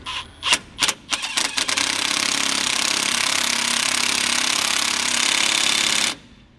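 A Milwaukee M18 1/2-inch impact wrench tightens rear dual wheel nuts on a Toyota Dyna truck, first in a few short bursts, then hammering loudly and continuously for about five seconds before stopping abruptly.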